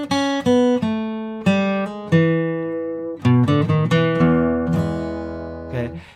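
Guitar ending tag from a blues tune, played freely as a loose run of plucked notes and chords with uneven timing, close and fairly loud, with no talking.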